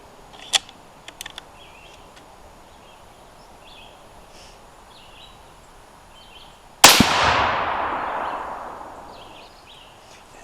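A single sharp, loud rifle shot from a .22 Creedmoor fired on a warm barrel at an outdoor range, with a long decaying echo trailing behind it after a few faint ticks and quiet ambience.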